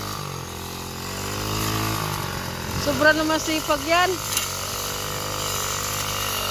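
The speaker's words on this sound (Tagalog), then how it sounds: "Ang aga-aga na grass cutter." A grass cutter runs outdoors on a New Year's morning, its motor giving a steady, droning whine that rises and wavers briefly midway while people talk over it.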